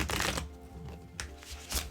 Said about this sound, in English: So let's give them a little shuffle.